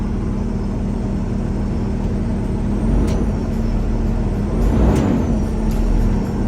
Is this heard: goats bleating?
no